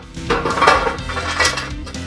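A metal lid clanks and scrapes onto a pot of fish biryani being sealed for dum cooking, with several close metallic clinks and a brief rattle.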